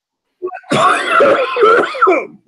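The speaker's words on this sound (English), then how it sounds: "all I heard was the coughing" A person coughs and clears their throat several times in a rough, raspy burst, close by.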